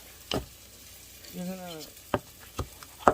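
Italian sausage stirred and broken up in a pot over lowered heat for Zuppa Toscana, soft scraping clacks of a utensil against the pot at irregular intervals over a faint sizzle, with a brief tonal sound midway.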